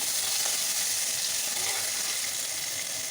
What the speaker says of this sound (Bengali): এবার চিংড়ি মাছগুলো ভেজে তুলে নেবো